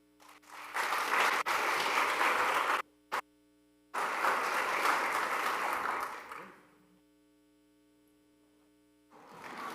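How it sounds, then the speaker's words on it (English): Audience applause at a graduation ceremony, two long bursts of clapping with a brief clap between and another starting at the end, over a constant electrical hum. "Big applause for Josh and Simon."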